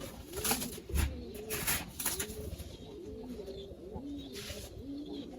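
Soft, repeated cooing of a pigeon, several rounded calls in steady succession close by, with light background noise.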